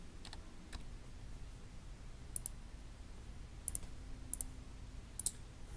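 Sparse, faint clicks of keys pressed on a TI-Nspire calculator keypad, a few single taps and short pairs spread out, with no talking and quiet background hiss.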